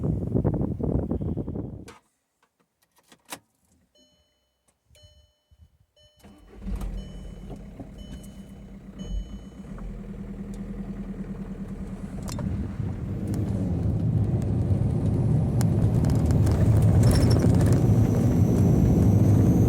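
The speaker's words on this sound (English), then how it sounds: "back together and ready for a test drive" A VW MK4/MK5 TDI diesel with a freshly changed 5-speed clutch: after a short quiet stretch with a few clicks, the engine comes to life and a steady driving rumble builds and grows louder and fuller on the road.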